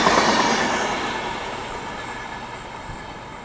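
A long-distance express train out of Hazrat Nizamuddin bound for Hyderabad rumbles past, a loud steady roar of wheels and carriages that slowly fades over a few seconds, with faint clatter and no voices.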